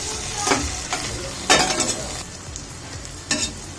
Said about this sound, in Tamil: ஆட் பண்ணி நல்லா மிக்ஸ் பண்ணுங்க.